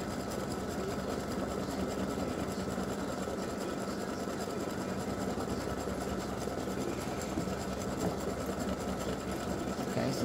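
An embroidery machine stitching a free-standing lace hanger loop for a gingerbread house ornament, a fast, even mechanical whir and needle chatter running steadily and unchanging throughout at moderate distance.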